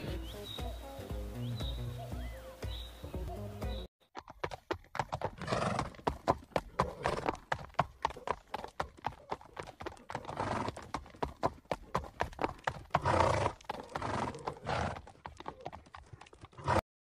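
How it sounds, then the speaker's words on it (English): A horse neighs with a drawn-out whinny, then its hooves clip-clop in a steady, close, brisk rhythm for the rest of the stretch. "It's a horse."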